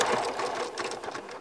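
A domestic sewing machine zigzag stitching yarn along the edge of a quilted fabric cookie makes a steady, close, continuous mechanical whir with a rapid needle rhythm and no talking.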